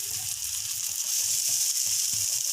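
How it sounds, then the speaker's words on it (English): Moringa leaves fry in a pan with a bright, constant hissing sizzle, close and even throughout, with faint low bubbling underneath. "See how it got fried."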